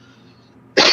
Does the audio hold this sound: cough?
yes